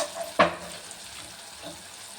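Oil hisses faintly in a pan while eggplant palya cooks, a soft steady sizzle broken by one sharp clack of a utensil or lid near the start, with no voices.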